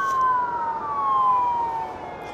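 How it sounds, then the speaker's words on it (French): An American police siren wails on a city street, its pitch sliding slowly downward as the vehicle passes, loud and fairly close, with no talk over it. "Les sirènes américaines."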